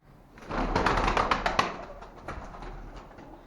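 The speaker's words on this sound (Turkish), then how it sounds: "bakın kuşlarımız şu an hepsi orada" Several pigeons close by coo and rustle in a quick busy cluster, loud at first and then fading over a few seconds.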